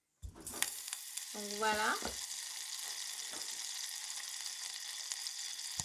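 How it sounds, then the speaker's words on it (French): Butter sizzles in a sauté pan on the stove, a steady bright frying hiss that holds on through the clip after a brief clatter, with a short spoken remark near the start. "dans la sauteuse, on va rajouter le beurre"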